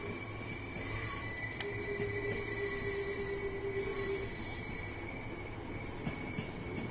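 Train running on rails in Train Sim World 2 on the Eastbourne to London via Brighton route: a steady rolling rumble with faint wheel squeal and sustained tonal whines, fairly quiet and continuous, with no talking.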